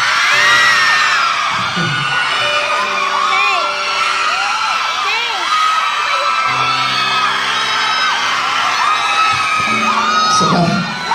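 A live event crowd shouts and whoops loudly, a sustained roar of many voices with overlapping yells that keeps going throughout.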